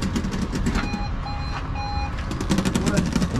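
A vehicle alarm sounds from a parked van, a repeating electronic beeping tone in short pulses heard at a distance over steady outdoor engine-like rumble and background noise.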